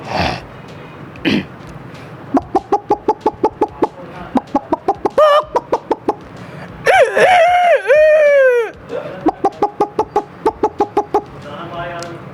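A man imitates a rooster, with rapid clucking bursts before and after a loud, wavering crow, all in one close voice.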